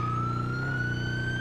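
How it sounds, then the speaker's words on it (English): A police vehicle siren in GTA Online wails steadily and loudly, a rising tonal whine over a low engine drone, heard alone without talk. "So I turned the sirens on so that I could go faster."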